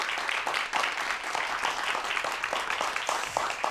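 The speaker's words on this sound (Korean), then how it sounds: "오늘 정말 너무 소중한 이야기 해주신 선생님께 다시 한번 큰 박수 보내주세요." Studio audience gives a teacher a warm round of applause, even clapping at moderate volume that holds steady for several seconds without voices.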